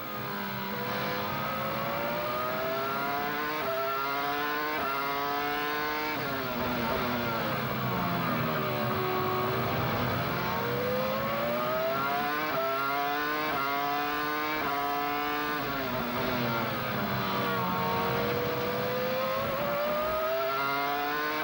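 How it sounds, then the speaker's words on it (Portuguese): Continuous high-pitched scream of a Williams Formula 1 car with a BMW engine on Michelin tyres at the Spanish Grand Prix, rising and falling through gear changes and corners, loud and steady throughout with no voices. "Aí é o Williams, motor BMW, pneus Michelin"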